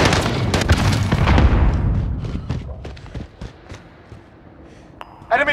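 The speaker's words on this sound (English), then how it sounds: "Throwing grenade!" A grenade blast in the video game Call of Duty: Modern Warfare, Domination mode on Azhir Cave, erupts in a loud boom with debris crackle that decays over a few seconds, followed by scattered distant shots and a sharp burst near the end.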